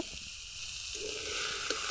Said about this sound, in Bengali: ওই কড়াইয়ে দেখবে আমি দুই তিন পিস মাছ ভেজে নিব